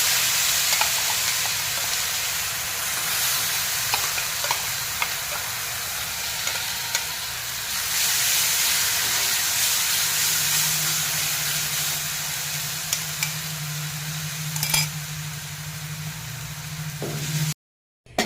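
Cumin, mustard seeds and garlic-ginger paste fry in hot oil for a bitter gourd and okra masala, giving a steady close sizzle and hiss with occasional stirring scrapes, then a sudden cutoff at the end.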